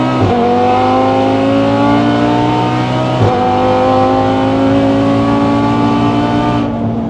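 A 1300 hp Audi TT RS at high speed, its engine droning loud and steady with rising pitch, a brief dip from a gear change, then pulling on strongly.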